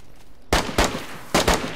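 Gunshots in the video game DayZ ring out as four loud, sharp cracks in two quick pairs, each with a short decaying tail, standing alone without speech.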